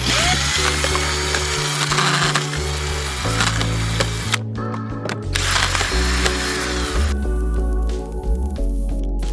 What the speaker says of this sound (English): I'm simply going to drill out bits of the concrete